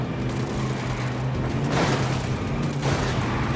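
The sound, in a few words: gunfire, from video game Ghost Recon Wildlands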